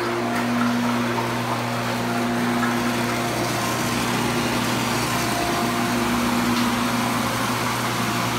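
Pump draining water from a fish tank, a steady, even mechanical hum with a constant whine, moderately quiet and unchanging throughout.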